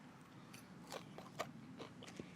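A few crisp crunching bites into a shredded-potato hash brown, close up, with brief pauses between them over a low steady background hum.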